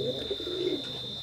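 Teddy pigeons of an imported bloodline coo steadily in low, continuous rolling murmurs, close by and alone, with no talk over them.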